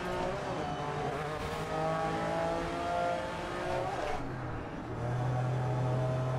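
Car engine droning and revving in a street racing video game, fairly loud and continuous, with the pitch shifting as the car accelerates and no talking over it.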